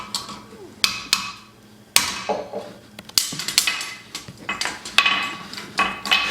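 Metal taps on a forged horseshoe hinge at an anvil, a series of sharp hammer strikes spaced irregularly, each ringing briefly with a metallic clatter, fairly close and clear with no speech.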